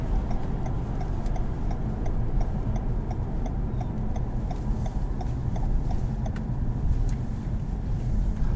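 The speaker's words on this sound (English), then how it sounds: "I like the sound of the turn signals." A 2018 Toyota Camry XSE V6's turn signal ticks in a regular, soft rhythm over a steady engine and road hum inside the cabin.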